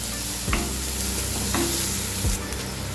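Onions frying in a pan with oil and a little salt, a steady sizzle with a few scraping stirs of a spoon at intervals, close and alone without talk.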